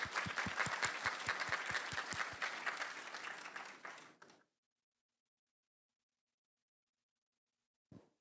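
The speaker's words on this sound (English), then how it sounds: "please give her a round of applause and their team" Audience at a townhall meeting applauds with rhythmic, fairly close clapping for about four seconds, then it fades into silence before a brief thump near the end.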